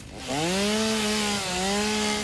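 A chainsaw felling trees in a video game gives a steady, loud droning buzz with a harmonic whine. It starts after a brief quiet moment, holds level, and dips and recovers once midway.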